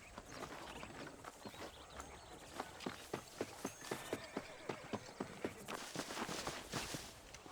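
Horse hooves clip-clop at a steady walking rhythm in the Red Dead Redemption video game, a regular series of distinct hoof strikes under faint ambient wind, with no talking.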